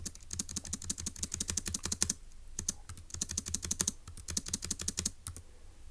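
Rapid keystrokes on a computer keyboard, with a dense burst of typing, a short pause near two seconds, then another steady run of clicks tapering off near the end; close and clear, with no voices.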